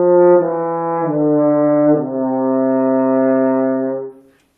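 French horn playing a soft, slow descending scale as a warm-up, with mellow sustained notes stepping down one after another, close and steady, ending in a gentle fade.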